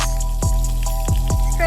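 Water drips and spatters in a backyard as a newly installed PVC sprinkler irrigation line is flushed out, with a few distinct splashy drops landing at a slow, uneven rhythm against a steady background hum.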